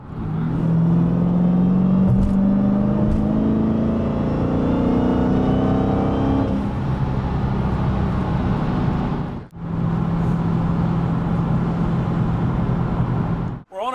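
A 2016 Dodge Challenger SRT Hellcat accelerates hard in second gear on wet pavement, engine note rising loud and close, then easing briefly before pulling again; a short dip near the end precedes renewed revving.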